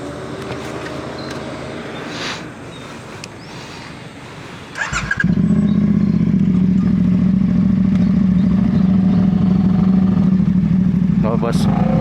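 A Honda Rebel CL500 motorcycle engine kicks in partway through and keeps running loud and steady, with quieter road noise before it.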